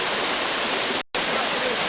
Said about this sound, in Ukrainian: Ось ми буквально за 10 метрів знаходимося від знаменитого Наринецького водоспаду